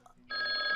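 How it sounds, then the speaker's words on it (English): A telephone rings in the Roblox Brookhaven video game, a bright electronic trill that starts abruptly partway through and holds steady and loud to the end after a quiet lead-in. "Okay, the phone's ringing. I'm gonna go answer it."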